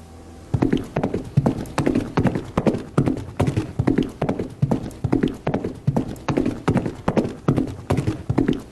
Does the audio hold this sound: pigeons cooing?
no